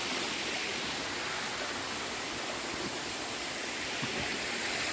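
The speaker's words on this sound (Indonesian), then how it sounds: "Tuh air terjunnya teman-teman." A waterfall on a mountain, heard as a steady, dense roar of falling water that holds even throughout with no pauses and no voices over it.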